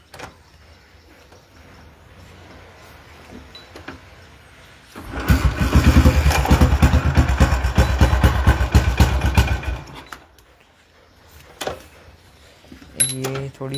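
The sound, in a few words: Royal Enfield motorcycle starting and idling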